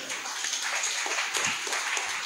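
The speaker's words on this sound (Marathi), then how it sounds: "या टाळ्या वसंत कानेटकर आणि शिवाजी महाराजांची भूमिका करणारे मास्टर दत्ताराम यांच्यासाठी आहेत" An audience at a talk on Marathi drama bursts into warm, continuous applause, a dense patter of many hands close by with no voices over it.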